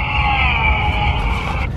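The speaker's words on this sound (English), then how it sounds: "it makes a Formula One sound" A Formula One car engine sound plays from a novelty item when it is opened: a sustained high-revving engine whine holding fairly steady for under two seconds, close and loud.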